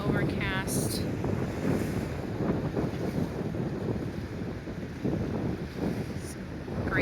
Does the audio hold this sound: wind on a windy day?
yes